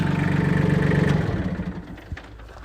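Two tractor engines idling with a steady, pulsing chug that dies away partway through as they are shut off, leaving a quieter rattle and a faint clunk.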